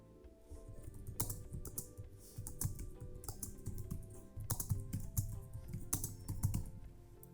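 Steady keyboard typing while code is entered in a JavaScript tutorial, a close, continuous patter of key clicks with occasional louder strokes.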